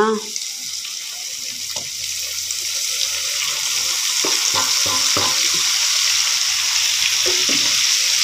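Half-cooked beef sizzles in oil as a paste of garlic, shallots, tomato, ginger and bay or curry leaves goes in for Aceh black-pepper beef, giving a loud, continuous frying hiss with occasional utensil clatter.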